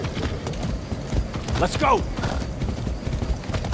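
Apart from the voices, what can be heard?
horse galloping hooves in video game Far Cry 6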